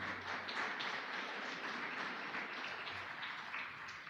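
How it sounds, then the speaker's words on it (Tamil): Church congregation at a Pentecost Sunday service gives a short round of applause, soft and diffuse clapping that fills the room evenly for a few seconds at a moderate distance. "சபையார் அவங்களுக்கு ஒரு சின்ன கைத்தட்டு கொடுங்களேன்"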